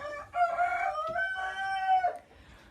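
A rooster crows once, close and clear, inside a chicken coop, followed by quiet.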